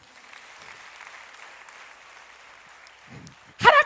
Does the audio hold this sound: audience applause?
yes